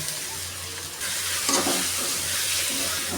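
Jute leaves hit a hot pan where onions have been fried, giving a steady close hiss of frying with a brief burst of sizzle and stirring partway through, no voices.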